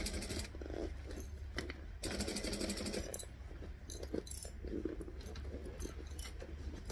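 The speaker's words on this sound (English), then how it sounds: "Stitch, back stitch." Sewing machine stitching forward and then back stitching through fabric, a fast mechanical rattle with short bursts and pauses, steady and fairly close, no voices.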